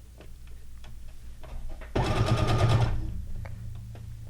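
Sewing machine stitching down a row over fabric scraps for a fabric strip, a single loud burst of rapid mechanical stitching lasting about a second amid quiet room ambience.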